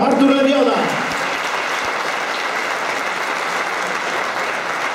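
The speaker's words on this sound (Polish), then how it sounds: "Brawa, Artur Lewioda!" A crowd applauds an assistant coach at a Stal Stalowa Wola football team presentation, with a brief announcer's voice at the start followed by steady, sustained clapping from a large audience.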